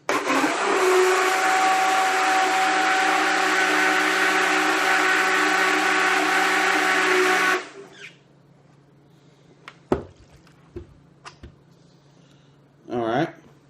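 A blender whirs loudly and steadily for about seven seconds, frothing coffee with heavy cream, butter and oil, then cuts off, followed by a few clicks and handling noises and brief talk.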